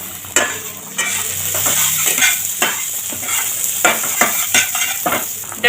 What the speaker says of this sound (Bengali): এখানে যে ফুটস একটুখানি হালকা ভেজে নেব।